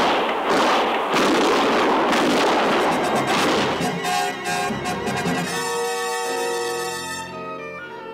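Several sharp gunshots fired in a 1958 frontier radio drama, rapid loud cracks and booms in the first half fading into a sustained musical sting with no speech.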